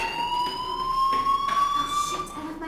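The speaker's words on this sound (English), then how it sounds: "Hey, do you hear that fire alarm?" In the video game Life is Strange, a school fire alarm rings with a steady piercing electronic tone, continuous and fairly loud, with faint background noise beneath it.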